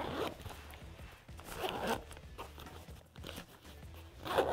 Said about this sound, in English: Zip this back up real quick.